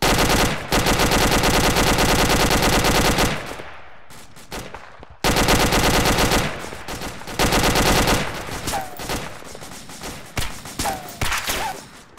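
Loud, close automatic gunfire rips out in long rapid bursts, with a short pause, a second sustained burst, then scattered single shots and sharp cracks trailing off.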